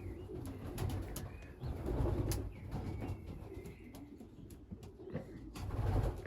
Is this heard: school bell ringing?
no